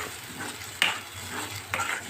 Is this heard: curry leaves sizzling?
yes